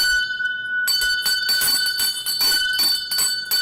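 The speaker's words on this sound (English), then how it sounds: "I think I have to ring the bell for Kaya, man." A bell rung repeatedly in quick strikes, each hit leaving a bright, sustained metallic ring that overlaps the next. The strikes come close and loud, with no talk over them.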